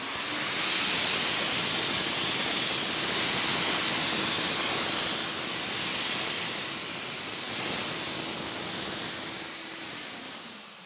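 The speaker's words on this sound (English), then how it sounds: "Let's check the spray pattern." A steady, loud hiss of a spray gun spraying Plasti Dip runs continuously for several seconds, with a faint mechanical hum underneath and a brief pulse near the end.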